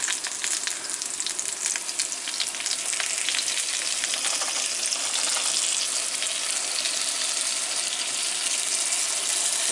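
Butter sizzles loudly and steadily in a hot pan, a dense crackling hiss that fills the whole stretch without any talking.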